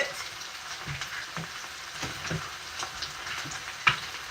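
Potatoes with onions and vegetables fry in a pan with a steady, close sizzle, broken by soft stirring scrapes and one sharp clink of a utensil near the end.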